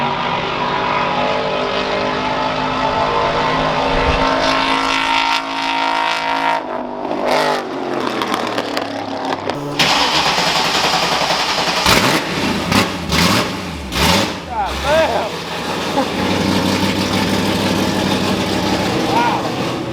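Custom one-off Ford F150 truck engine revving loudly and roughly, with surging bursts and a drop in the middle, close by, with people talking over parts of it.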